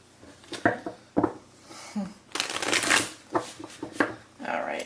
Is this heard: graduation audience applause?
no